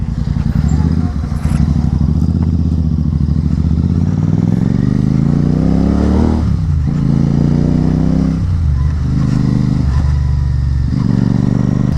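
A motorcycle rides at speed with its engine note rising and falling through revs, a loud close buzzing drone with rough crackling texture, while a rider talks over it.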